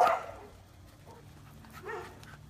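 A Labrador puppy gives a short whimpering yelp right at the start, followed by quieter whines and a brief bark-like burst near the end, all fairly close and alone without talk.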